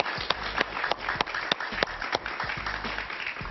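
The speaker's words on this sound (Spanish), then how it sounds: "Un aplauso para Willy Cochet, por favor." A studio audience claps through a short, steady round of applause on a Spanish-language news talk show, with a few sharper claps standing out and no talk over it.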